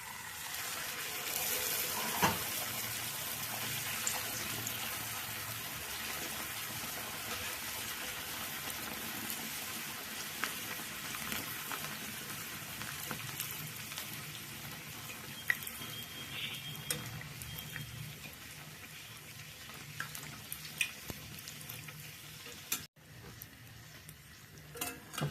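Large sola puri dough frying in hot oil, giving a faint continuous sizzle and bubbling with scattered light ticks and pops, heard up close at low volume without talking.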